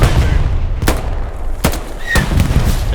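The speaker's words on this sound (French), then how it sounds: "Ça vous tire dessus là." Gunfire in the World War II shooter Hell Let Loose, three sharp cracks spaced about a second apart over a loud, rumbling battlefield background.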